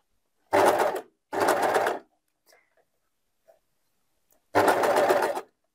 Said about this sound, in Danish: Når jeg syr sammen på overlockeren,